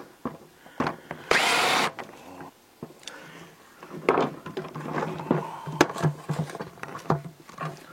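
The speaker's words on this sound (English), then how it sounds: "you might just need to drill a bit more off the head" A power drill grinds the head off a screw while an old inlet is being removed: a loud, sustained whirring burst near the start, then shorter bursts mixed with clicks and scraping handling noises close by.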